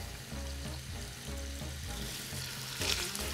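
Celery and onions frying in rendered fat and butter, a steady sizzle mixed with stirring and scraping, with a low musical hum running beneath it and a brief brighter hiss near the end.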